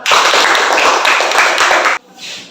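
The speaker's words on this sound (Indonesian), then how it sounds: "Tepuk tangan." A classroom of students claps together in a dense burst for about two seconds, then it cuts off abruptly, leaving faint murmuring.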